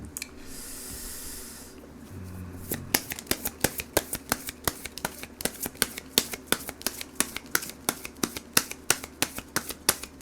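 A deck of tarot advice cards is shuffled close by, a fast run of sharp, regular riffling snaps following a brief soft rustle at the start.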